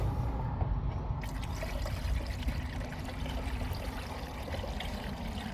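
Coolant pours from a container into a car radiator, a steady close trickle and splash of liquid that runs continuously without pause or talk.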